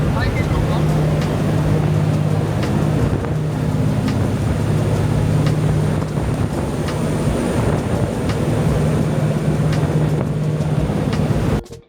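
A continuous low engine drone from a ferry in America rumbles steadily over wind buffeting the microphone as it crosses the water, with faint voices mixed in.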